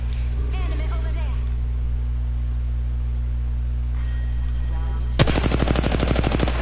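In Apex Legends, a sudden close burst of rapid automatic gunfire breaks out after several seconds of low game ambience and faint voices, then keeps rattling to the end.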